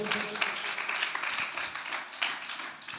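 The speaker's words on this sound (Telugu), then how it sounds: "కొట్టండి చప్పట్లు, హల్లెలూయా." A congregation at a women's prayer gathering claps hands together, a dense, continuous patter of many palms filling the room, loud and close with no talk over it.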